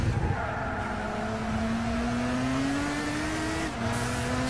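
A front-engine, front-wheel-drive car in the Gran Turismo 6 racing game drones steadily at close range, its engine pitch rising slowly through a bend, with a brief dip as it brakes near the end.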